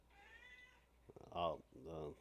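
A house cat meows indoors, a faint drawn-out meow followed by two louder, closer meows in quick succession, with a quiet background.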